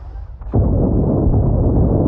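A loud burst of gunfire in the game The Last Starship erupts and rolls on as a sustained, heavy rumble of shots and blasts.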